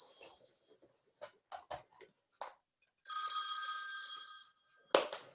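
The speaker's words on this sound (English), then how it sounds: "I apologize for that phone." A telephone rings during an online webinar on healthcare corruption, a sustained electronic bell tone lasting over a second amid scattered faint clicks and short noises in an otherwise quiet room.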